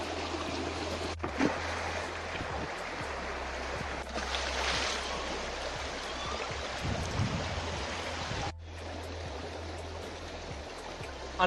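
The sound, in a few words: river stream flowing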